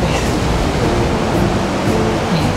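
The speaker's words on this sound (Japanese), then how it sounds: "こうザバーンってあの岩と波の感じが、 もう荒崎うんうんっていう感じでね、波ずっと見てても見飽きないなぁ" Ocean waves crash on the rocky shore of the Arasaki coast as a loud, continuous roar of surf and churning water, close by and steady, with no one speaking.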